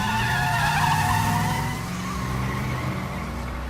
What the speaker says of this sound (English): There's a car out here.